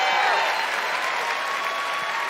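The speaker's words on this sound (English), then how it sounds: "There's something really weird about the crowd cheering now." Large crowd applauding and cheering at the E3 2019 Bethesda conference, a dense, continuous roar of clapping that holds steady throughout.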